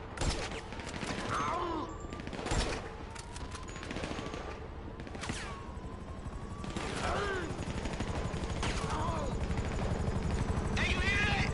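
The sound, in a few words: attack helicopters approaching in the video game GTA 5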